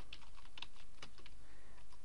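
A Google search typed on a computer keyboard, with light, close keystrokes coming in scattered clusters over a constant background hiss.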